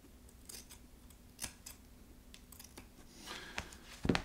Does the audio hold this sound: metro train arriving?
no